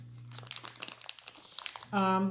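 A plastic bag is pulled open by hand, giving a close run of crinkling and crackling rustles that ends in a louder tearing burst, with a low steady hum behind it.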